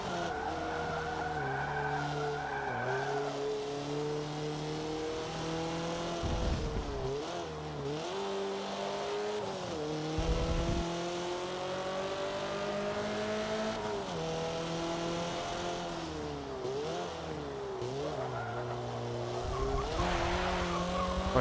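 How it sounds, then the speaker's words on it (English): A race car on a track squeals its tires and spins its wheels as the engine revs up and down through gear changes, a sustained loud whine with pitch sweeps and brief chirps, no talking. "A little bit of wheel spin."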